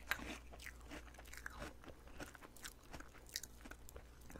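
Close, quiet crunching and chewing of rice honey-ring cereal in milk, binaural ASMR style, with soft irregular bites and wet munches repeating throughout, no talk.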